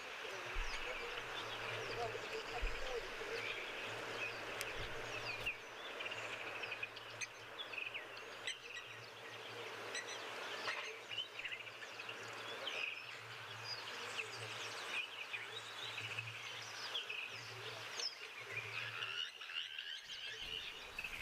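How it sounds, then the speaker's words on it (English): Outdoor nature soundscape with a dense chorus of birdsong and calls, joined by steady insect or frog-like trilling and a low continuous hum, all faint and distant throughout with no talking. "listen to all the birds and all the amazing things that's happening in the background"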